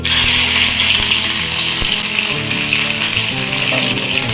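Panch phoron spices and curry leaves sizzling in hot oil for sabudana khichdi, a loud, continuous crackling sizzle close up throughout, with no talking.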